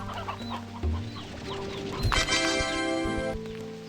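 Chickens cluck in a coop in the video game Slime Rancher 2, with several short clucks and squawks close by over a soft game ambience and some tonal electronic sounds.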